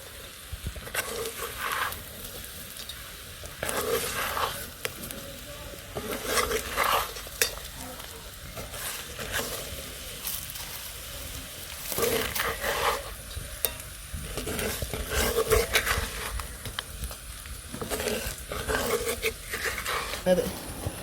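Small stream fish stirred through a shallot and chilli spice paste in a pan: repeated scraping and shuffling strokes over a low frying sizzle, close and uneven, with occasional voices in the background.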